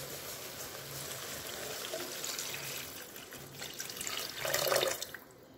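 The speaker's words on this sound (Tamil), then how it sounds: "புளிக்கரைசல் ஆட் பண்ண போகிறேன்." Tamarind water pours steadily into a pan, a continuous splashing wash that swells louder near the end before tapering off, with no voices.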